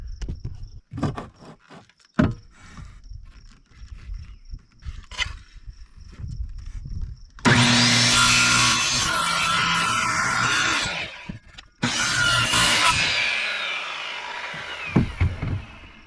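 A circular saw cuts wood during tiny house framing, two loud sustained whining cuts of about four seconds and two seconds, close up, with scattered knocks and handling clatter before and after.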